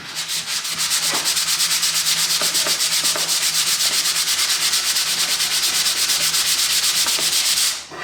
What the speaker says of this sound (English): Sanded right on top of the workbench like a heathen,